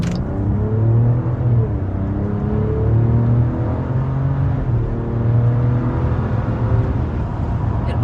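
A 2023 Jeep Grand Wagoneer L Series II 4x4 with an 8-speed automatic pulls out and turns at a busy time of day. A steady, close engine rumble and road noise run throughout, with no talking.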